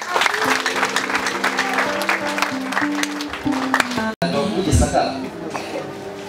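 A church congregation breaks into applause during a sermon, the clapping heard alongside a speaking voice and sustained keyboard tones, with a short dropout partway through.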